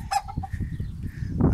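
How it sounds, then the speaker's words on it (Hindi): Desi domestic chickens cluck on a date farm in Saudi Arabia, a few short, close clucks and calls over a steady, busy background. "ये देसी मुर्गी।"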